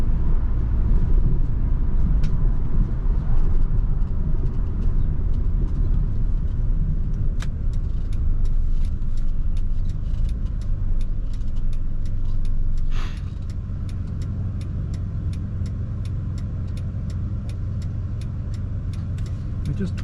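A 1998 Honda SM-X drives along the road, its steady engine and road rumble continuous and close throughout, with faint ticking noises over it and a slight drop in level partway through.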